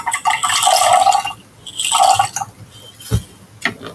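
Popcorn kernels poured into a glass of water make two bursts of rattling, splashing pour, followed by a few brief clinks and drips close by.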